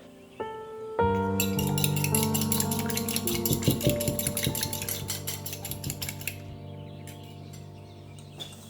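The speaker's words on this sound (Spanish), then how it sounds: "en otro bol vamos a batir 2 huevos" Two eggs are whisked in a bowl with a fork or whisk, giving a steady run of quick clinking taps against the bowl that fades gradually, with a faint ringing tone underneath.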